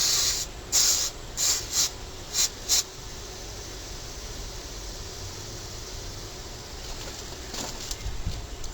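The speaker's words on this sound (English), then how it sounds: "I'm going to spray this out with some carburetor cleaner." Carburetor cleaner is sprayed into a small engine's carburetor in a series of short, sharp hissing bursts near the start, followed by quieter background noise and a few fainter bursts at the end.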